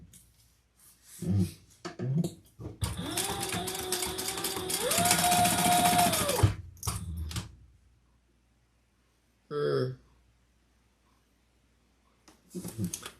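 A sewing machine stitches down the sides of a crossbody bag in one steady run of about three and a half seconds, pitch stepping up partway through, framed by scattered handling knocks and rustles before and after.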